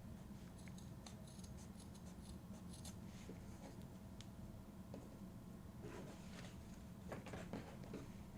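Scissors snip at the fabric of a handmade sewn art tool roll, giving faint, scattered crisp cuts in small clusters over a quiet, steady room hiss.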